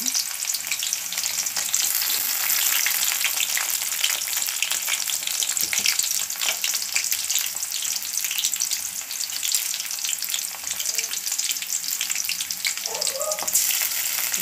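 Food is fried in hot oil in a pan, giving a steady, loud, close hiss and sizzle that continues without a break throughout.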